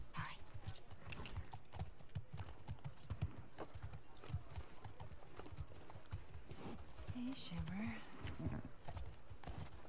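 In The Last of Us Part II, a horse's hooves clip-clop steadily at a walk while it gives a short whinny near the end, and a person speaks briefly over the hoofbeats.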